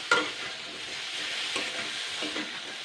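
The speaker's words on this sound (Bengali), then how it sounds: "এখানে এই যে কালো জিরে বাটা আর কাঁচা লঙ্কা বাটাটা দিয়ে দিচ্ছি। জাস্ট এটা দিয়ে আমি 1 মিনিট নাড়াচাড়া করব" Vegetables sizzle in a pan with black cumin paste and green chilli paste over medium heat, a steady hiss broken by a few soft scraping stirs. One sharp clink sounds at the start, and no one speaks.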